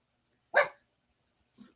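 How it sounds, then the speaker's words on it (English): A dog at home gives a single sharp bark close by, followed about a second later by a softer, shorter yip, with quiet in between and no talking. "My dog is making demands of me."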